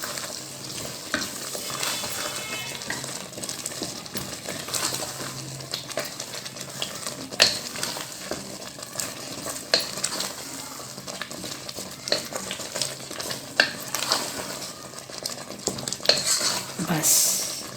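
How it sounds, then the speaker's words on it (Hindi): A spoon stirs tempering through masoor dal in a pan, scraping and clinking steadily against the metal over a soft, continuous sizzle, with a few sharper knocks along the way and no voices. "हमने इसको अच्छी तरह से दाल के साथ मिला देना।"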